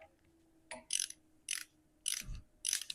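Ratchet clicking in four short, evenly spaced bursts as bolts on a classic Mini gearbox differential are snugged up, close and fairly quiet, with a faint metallic clunk between strokes.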